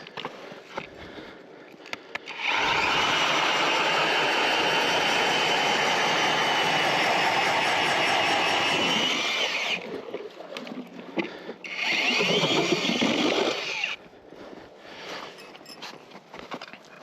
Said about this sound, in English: So let's drill some holes over here and see what we got for depth.